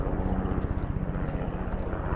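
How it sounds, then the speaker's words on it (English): A helicopter flies over a city street, its rotor making a soft, rhythmic low thumping that drones on at a moderate distance. "The helicopter flying over."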